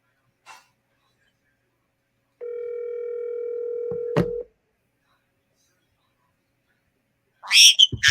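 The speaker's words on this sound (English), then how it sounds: "Andrew, we're calling you." A steady telephone dial tone holds for about two seconds during an outgoing call, broken by a short beep, with brief voice fragments before and after.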